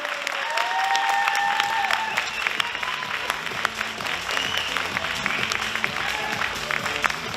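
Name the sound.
stormy applause in a hall at a bodybuilding competition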